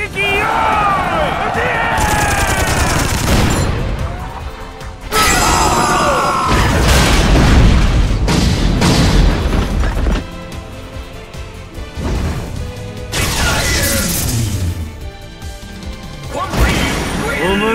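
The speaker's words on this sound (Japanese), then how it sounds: "一斉射撃よ。" Bad Company soldiers in a JoJo fighting game unleash volley fire and a missile launch, with loud booming crashes, rapid bursts and whooshing impacts in several waves, mixed with music and in-game voices.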